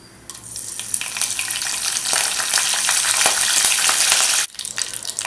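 Mustard seeds and curry leaves splutter in hot oil for a potato gravy, a loud dense sizzle with sharp popping crackles that holds steady and then briefly cuts off before resuming.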